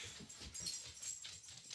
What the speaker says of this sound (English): Get out here, puppies.